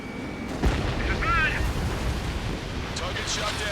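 In Ace Combat 7 a missile strike downs an enemy aircraft with a sharp explosive burst, followed by a rolling blast and jet rumble, with brief radio-style voice chatter under the noise.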